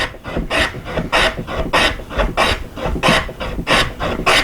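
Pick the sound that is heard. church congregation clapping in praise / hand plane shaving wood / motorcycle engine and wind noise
hand plane shaving wood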